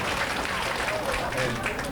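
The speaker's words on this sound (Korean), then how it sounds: "박수 한번 쳐주십시오" Audience at an outdoor rhythm dance festival in Busan claps in a brief, dense burst of applause, with crowd noise mixed in throughout the two seconds.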